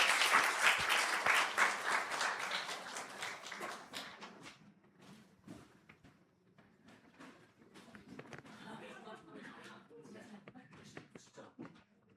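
Church congregation applauding as deacons come forward at a Wednesday prayer service and discipleship training graduation, a loud burst of clapping that gradually thins and fades into scattered claps with murmuring voices.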